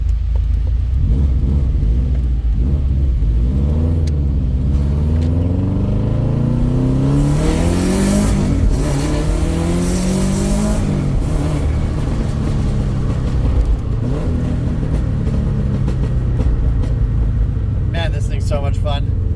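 Car engine revving and accelerating from inside the vehicle, a loud rumbling roar rising and falling in pitch through repeated gear pulls, with a person talking over the engine noise.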